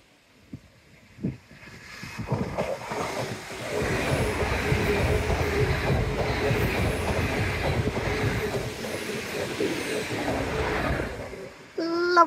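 Double-headed steam trains rumble past nearby on a seawall, with rattling and clattering carriages building to a steady roar before fading away.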